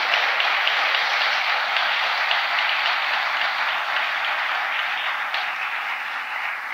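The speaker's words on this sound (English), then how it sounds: "Let's just give everybody a round of applause." Conference audience at a university hall giving a sustained round of applause, a dense even wash of many hands clapping, steady and fairly loud, slowly easing off toward the end.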